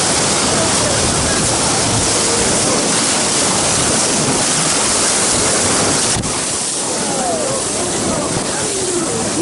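Rushing whitewater of river rapids in the Grand Canyon just above Crystal Rapids, a loud, dense, unbroken roar with wind buffeting the microphone.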